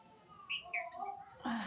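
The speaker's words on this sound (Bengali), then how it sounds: "তো পাখিগুলো খাচ্ছে ওই কলা থেকে খুঁটে খুঁটে।" Small birds chirping in short bright calls while pecking at a banana left out on a bathroom roof on a sunny morning, a few quick tweets close by with light background noise.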